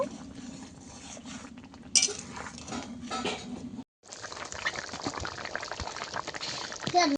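Curry of fried hilsa fish, elephant foot yam and potato in a pot, with liquid bubbling, utensils clinking against the metal and a short break midway, close and fairly quiet, voices faint in the background.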